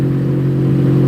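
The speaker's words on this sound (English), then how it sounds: "That loud clacking sound you're hearing is the rear axle." A Ford service truck with a failing rear axle and a leaking front pinion seal drives along, and a loud, constant mechanical drone with a clattering edge carries through the brief moment.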